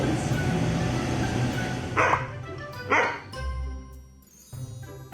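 A shop dog named Major barks a few short, sharp times from behind a store counter, separate woofs standing out over a low background hum and murmur.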